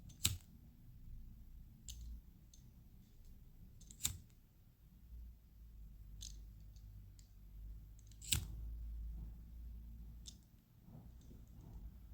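Scissors trimming the excess threads of a handmade macrame butterfly bracelet, a few sharp isolated snips spaced several seconds apart over a quiet room background.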